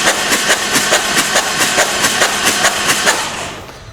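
Harley-Davidson Street Glide engine running steadily after a restart, a loud close mechanical idle with a regular pulsing beat throughout before easing off slightly at the end.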